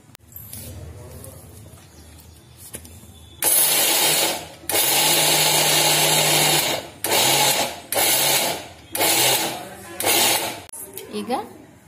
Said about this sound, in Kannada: ಆಮೇಲೆ ಮಿಕ್ಸರ್ಗೆ ಹಾಕಿ ಒಂದು ಎರಡು ರೌಂಡ್ ತಿರುಗಿಸ್ಕೊಳ್ಳಿ.